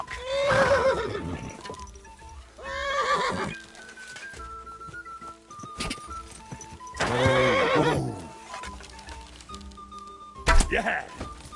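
Horses neigh and whinny in Kingdom Come Deliverance 2 over the sound of hooves clip-clopping. Loud, drawn-out calls come in several bursts, and a voice speaks in between.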